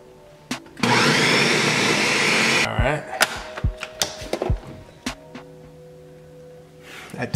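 Blender whirring loudly for about two seconds as it mixes a milkshake with a dab of beer, then cutting off, followed by clinks, taps and a low steady hum.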